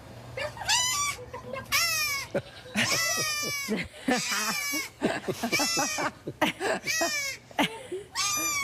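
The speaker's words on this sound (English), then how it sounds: "Baby goats, maybe cute baby goats." Young goats bleat repeatedly in short, high, wavering cries, several animals calling close by in quick succession.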